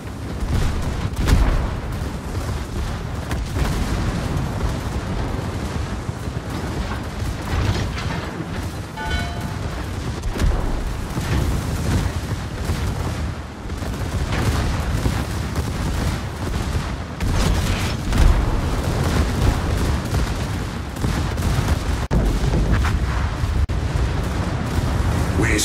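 Warship guns firing in a naval battle video game, with a German battleship Pommern in the fight, heard as a dense, continuous barrage of heavy booms and rumbling blasts filling the whole stretch at steady high loudness.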